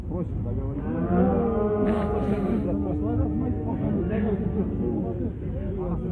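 Cattle lowing loudly and continuously at a busy livestock market where a large bull is for sale, with people talking and general crowd noise underneath.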